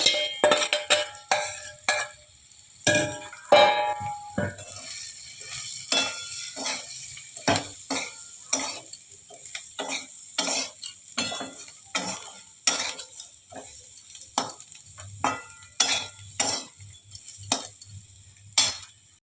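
Red lentils (masoor dal) tipped into a hot pan with spices and ground coriander and fried, with repeated stirring scrapes and clinks over a steady sizzle, close and fairly loud.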